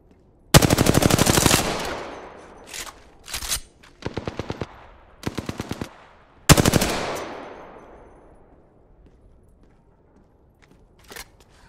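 Bursts of automatic gunfire in the Apex Legends battle royale game: several loud rapid volleys of different lengths separated by short gaps, the sharp reports ringing off, with one brief final burst after a pause.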